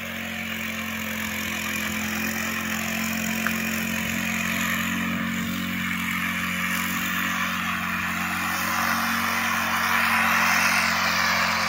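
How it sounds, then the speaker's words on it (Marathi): A small, lightweight tractor ploughing muddy paddy fields for traditional rice planting in Konkan, its engine droning steadily and close throughout without pause. "हे छोटं ट्रॅक्टर हा. त्यांनी पण मस्त नांगरला जाता."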